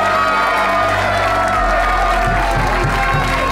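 A crowd at an amateur boxing event cheers, whoops and applauds in a loud, dense, continuous roar that fills the whole space.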